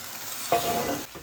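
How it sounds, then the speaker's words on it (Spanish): Beef sizzles as it is stirred back into a stew pot with its juices, a short sharp burst of frying and scraping that fades after about half a second. "ahora es momento de agregar de nuevo la carne con todo ese juguito que ha botado de vuelta a la olla"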